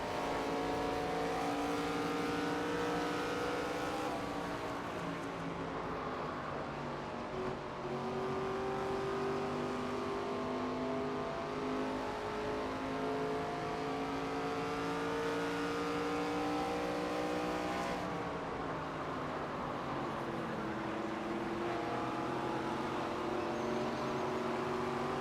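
Stock cars race at Phoenix in the NASCAR 25 video game, with a steady, loud engine drone from the field that shifts pitch through gear changes and laps. The roar runs unbroken, with no voices over it.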